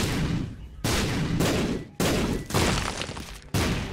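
Repeated heavy bomb blasts in The Binding of Isaac: Afterbirth, loud, dense booming bursts following each other in quick succession, about six in four seconds, with abrupt onsets and no pause between them.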